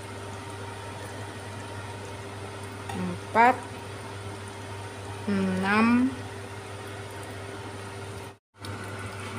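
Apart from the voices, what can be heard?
spices frying in a pan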